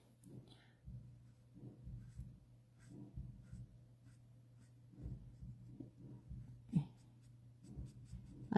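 A pen scribbles on paper in a series of short scratchy bursts, quiet and close, with pauses between strokes and no talking.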